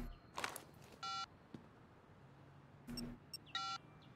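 Phone dialing beeps in Sleeping Dogs, a few short electronic key tones spaced unevenly, quiet and close, with light rustling handling noise and no talk.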